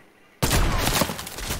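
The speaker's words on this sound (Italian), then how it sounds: "Io tutto quello che trovo sparo" Gunfire in a video game, a sudden loud burst of rapid shots that starts abruptly after a quiet moment and continues densely to the end.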